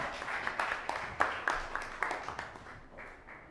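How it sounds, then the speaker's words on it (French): Scattered audience clapping at a talent competition finale, a thin patter of separate claps with a few sharper hand strikes, thinning out toward the end. "On l'applaudit, s'il vous plaît."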